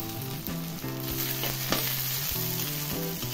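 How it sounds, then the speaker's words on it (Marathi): Cumin seeds hit a hot kadhai while Kolhapuri kharda is being made, giving a steady close sizzle that crackles throughout, with a soft tonal hum beneath and no talking. "आता हे जिरं आहे ते पण मी ह्यामध्ये टाकणार आहे. त्याला आता भाजणार नाही, कढई गरमच आहे."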